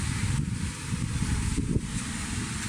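Strong wind roars and buffets the microphone continuously, a dense, rushing noise with occasional gusts.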